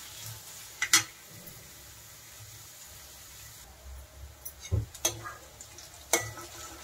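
Onion pieces stir-fried in a pan for a radish greens dish: a faint, quiet sizzle broken by a handful of sharp spatula clicks and scrapes against the pan.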